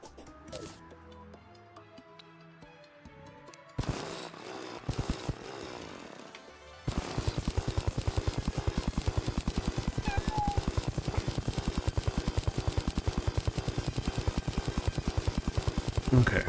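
A buzzing drill in the video game Terraria, rising from quiet clicks and short bursts into a loud, steady, rapidly pulsing grind that runs on continuously for about ten seconds.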